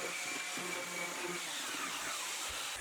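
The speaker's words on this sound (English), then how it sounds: "just use my random orbital sander just to really smooth them out and make them nice to the touch" Random orbital sander smoothing wooden shelves for a toy train wall rack, a steady close whirring hum with no pauses.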